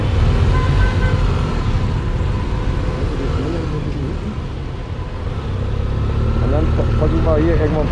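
Dense city traffic in Iran from a moving motorcycle, a steady loud rumble of engines and road noise with horn toots and passing vehicles, while people talk over it.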